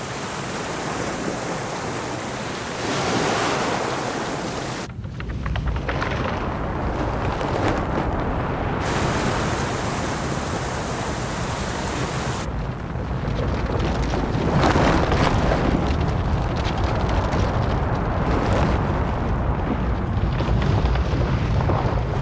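Floodwater bursts out from beneath a glacier's ice in a roaring, continuous rush, a broad loud wash of turbulent noise that surges and swells without pause.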